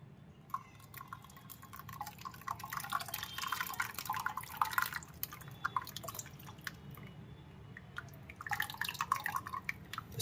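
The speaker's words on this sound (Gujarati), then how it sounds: "આપણે આંબલી પલાળી તે આંબલીનું પાણી નાખી દઈએ ખટાશ માટે." Soaked tamarind water is poured into a mixer jar for pani puri water. Faint trickling, dripping splashes come in uneven bursts, with quieter stretches between them.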